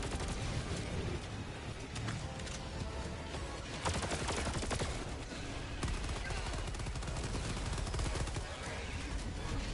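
Rapid, dense gunfire from automated sentry turrets in the video game Helldivers 2 pounds away almost nonstop, with bursts overlapping into a continuous clatter and brief heavier cracks mixed in.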